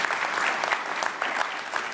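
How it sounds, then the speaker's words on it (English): An audience at a hub19 Showcase event in Dubois County claps steadily in a round of applause for a company CEO, a dense, even patter of many hands sustained throughout without a break. "Give her a big round of applause."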